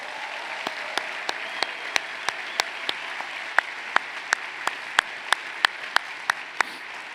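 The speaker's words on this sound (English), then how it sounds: "Please join me in a moment of applause to recognize and thank those who have supported you" A commencement audience at Babson College's 2024 undergraduate ceremony breaks into sustained applause: a dense, steady wash of clapping punctuated by sharp, evenly spaced louder claps that keep a regular beat throughout.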